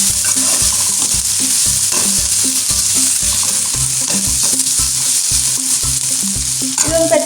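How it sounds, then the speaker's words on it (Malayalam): Sliced onion sizzles in coconut oil for a cauliflower stir fry, a steady loud frying hiss throughout with repeated rhythmic stirring scrapes of a spoon against the pan, no voices. "കാരണം സവാള ഇടുമ്പോൾ എന്തായാലും അത് വെളിച്ചെണ്ണ കുടിക്കും."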